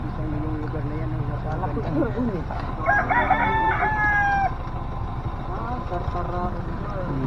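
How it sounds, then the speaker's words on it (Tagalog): A rooster crows once at mid-distance, a rising drawn-out call over a steady engine rumble and nearby voices. "Tingnan mo, may manok. Papa, may manok."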